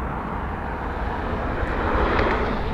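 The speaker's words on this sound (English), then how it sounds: "That is a very unique plane, everyone." An airplane roars past at Los Angeles International Airport, a loud broad jet-engine rumble that swells steadily toward the end, heard alone without talk.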